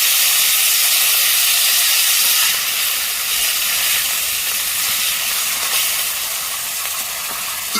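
Fish frying in hot oil with black mustard seeds gives a loud, continuous sizzling hiss, close and steady, easing slightly toward the end.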